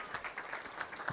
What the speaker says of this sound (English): let's give Linda a big round of applause